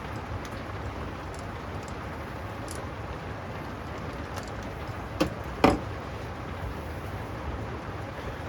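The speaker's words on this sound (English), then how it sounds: "you probably can't hear anything over the rain" Steady rain drumming on a shed, a continuous even patter with a few sharper drips or knocks near the end, no talking.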